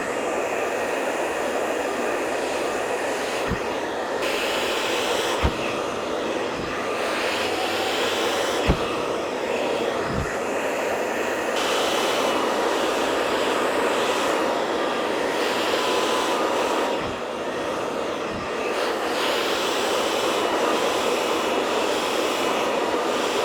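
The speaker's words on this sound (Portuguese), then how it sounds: "Vou pegar com a escova agora para mostrar para vocês só o alinhamento" Hair dryer runs in a continuous loud, broad whoosh while blow-drying blonde hair with a brush in a salon, with brief knocks and shifts in airflow as the brush moves through.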